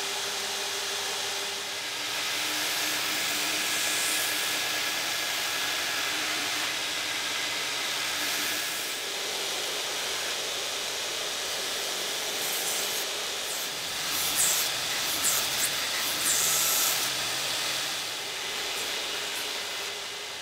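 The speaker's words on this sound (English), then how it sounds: "Instead I'll use the belt grinder and a fence that matches the radius of the wheel." A belt grinder shapes a wooden vanity handle against a radiused fence, a loud continuous abrasive whir with grinding rasp that holds steady throughout, briefly swelling as the wood presses into the belt.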